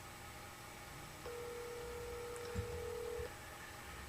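A steady electronic telephone tone sounds for about two seconds over quiet hiss, with a faint click partway through.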